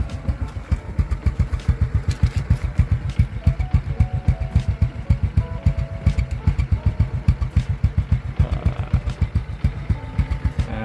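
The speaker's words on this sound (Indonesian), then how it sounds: "Ini suara knalpot." Loud Honda Kirana 125 motorcycle exhaust chugs in a steady, rapid thumping beat up close, a low idle with faint mechanical rattle, no talking.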